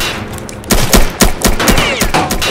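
Rapid bursts of gunfire spammed in a Call of Duty-style shooter game, loud, close sharp shots in quick irregular clusters filling the whole moment, no talk over them.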